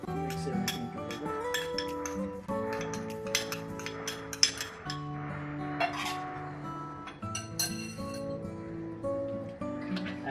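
Dry cake ingredients (baking soda, baking powder and almond powder) being mixed in a bowl, with repeated light clinks of a utensil against the bowl under soft background music.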